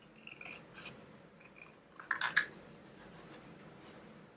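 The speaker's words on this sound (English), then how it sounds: "I'll grab my scissors." A pair of scissors snips through craft paper in a quick cluster of crisp, close cuts, set among quiet rustling and handling sounds with no talking.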